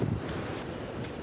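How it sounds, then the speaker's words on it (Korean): Ocean waves and wind roll across the open Pacific, heard from aboard a ship sailing from Donghae port toward Vladivostok. A steady, broad rushing wash continues without pause and with no voices. "오로지 넘실대는 파도와 바람뿐입니다"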